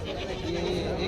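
A goat bleats at a livestock market for male goats held in Parbhani ahead of Bakri Eid, a single close, steady cry lasting about a second, with people talking around it.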